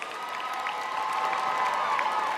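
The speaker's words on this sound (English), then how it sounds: "Let's give a round of applause for all of our Bachelor of Arts in Public Relations graduates." Applause and cheering fill a large commencement crowd at the 2018 USC Annenberg ceremony as public relations graduates are honoured. The sound is a continuous, moderately loud roar of clapping with some raised voices.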